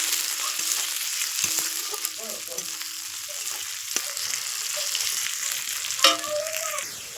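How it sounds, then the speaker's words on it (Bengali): Close, continuous sizzle of ginger frying in a pan, with intermittent clinks and scrapes of stirring and a sharper knock near the end. No voices are present. "ভালো করে নাড়াচাড়া করে নিচ্ছি।"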